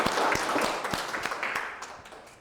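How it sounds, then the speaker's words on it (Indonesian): An audience applauds after a hotel and tourism polytechnic teaching session, a dense wash of many clapping hands that starts fairly loud and steadily fades over a couple of seconds. "Boleh tepuk tangan untuk kita semua."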